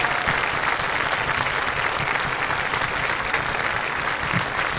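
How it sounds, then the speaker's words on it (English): A crowd at a senior awards ceremony applauds a student, a steady, dense clapping that holds evenly throughout, fairly close and without talk. "if we can please give him a round of applause for his future work in the Coast Guard Academy"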